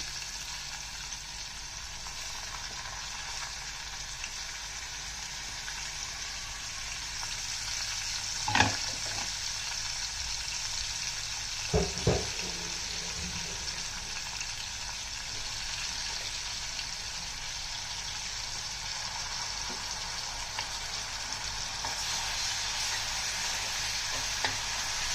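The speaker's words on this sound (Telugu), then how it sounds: "కొంచెం సేపు ఒక 5 to 10 minutes ఫ్రై చేసుకోవాలండి." Tamarind leaf chutney paste frying in a pan on a slow flame without water, a continuous steady sizzle with a few sharp spoon clinks and scrapes, close and alone.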